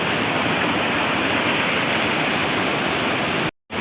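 A forest waterfall pours with a steady, dense broadband roar that fills the whole clip, with a brief cutout to silence just before the end.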